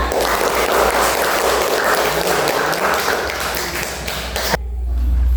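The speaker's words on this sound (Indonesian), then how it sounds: "tepuk tangan untuk Faza." Children in a classroom clap for a classmate during a lesson. The clapping is close and steady for several seconds, then stops abruptly.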